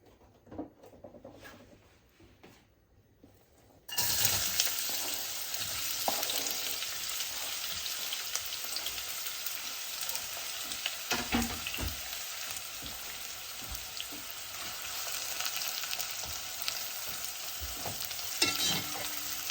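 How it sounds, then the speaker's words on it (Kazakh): Quiet rustling gives way suddenly to loud, steady sizzling as onion hits hot oil in a frying pan, then fries on close-up with occasional crackles and stirring scrapes, no talking. "жуамызды сарғыш түс болғанша осылай сковородкада немесе маленький осындай қазаншықта қуырып аламыз"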